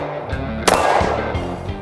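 A Canik Mete SFT pistol fires at an outdoor range, giving one sharp, loud gunshot partway through with a quick decaying echo, amid softer background thumps.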